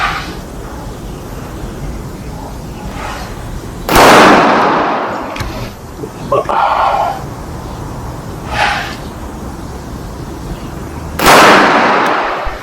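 Two loud, sharp gunshots from a .45 caliber 1911 pistol ring out at a shooting range during zeroing. Several fainter, muffled shots or impacts fall between them over a steady background noise.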